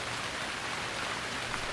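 Heavy rain falls in a steady, dense patter of drops on surfaces, continuous and close with no voices.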